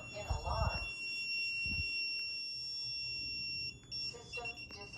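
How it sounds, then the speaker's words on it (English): A DSC Impassa home security system sounds its alarm, a steady piercing high tone that runs the whole time, with a brief voice announcement at the start and short beeping near the end. "System in alarm."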